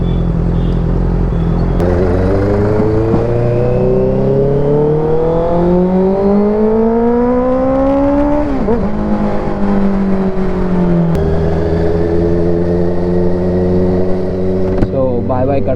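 A Honda CBR650F superbike on a long highway ride, its engine note rising and falling through gear changes in a steady close drone, with wind rush over it throughout.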